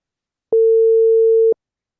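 A phone line sounding while a call is being placed: one clean, steady electronic tone lasting about a second, starting and stopping abruptly and standing alone in silence.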